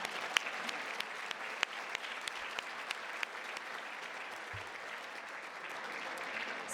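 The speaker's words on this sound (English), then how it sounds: "Let's give all of our sponsors a round of applause." Audience at a chamber of commerce annual dinner applauding the sponsors, a sustained wash of clapping from a room full of people with a few sharper nearby claps.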